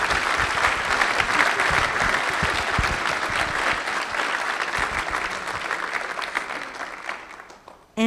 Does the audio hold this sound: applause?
yes